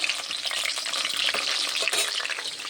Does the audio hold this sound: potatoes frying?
yes